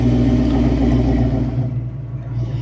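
A warmed-up Foxbody Mustang engine idling close by, a loud steady low rumble with a throbbing hum that eases slightly toward the end.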